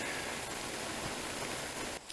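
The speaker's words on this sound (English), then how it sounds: "When we got here, it just started raining." Rain falls steadily in the woods on a rainy day, a dense, even wash of patter that fills the scene up close and cuts off near the end.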